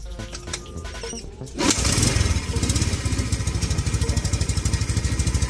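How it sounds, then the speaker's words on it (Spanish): A Yamaha WS150 motorcycle engine, freshly fitted with a new spark plug, starts up with a sudden loud burst and then settles into a steady, rapid, close-up putter, with some revving. "Como pueden observar, ya se escucha un poquito mejor la moto."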